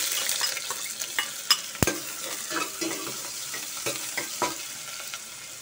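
Onion sautéing in a very hot cooking pot for chicken tinola with coconut milk, a steady close sizzle with stirring scrapes and a few sharp clinks of utensil against the pot, no talking.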